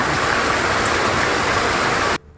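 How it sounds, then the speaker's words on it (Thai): Heavy rain pours steadily onto garden plants, including a red-stemmed aglaonema, as a dense, even hiss that cuts off abruptly near the end. "ฝนตกใส่จุไม้แดงค่ะ"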